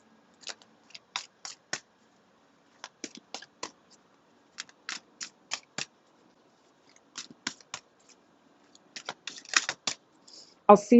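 Tarot cards are shuffled in quick riffled bursts of papery flicks separated by pauses, close and clear, ending with a louder clattering slip as a large chunk of the deck falls.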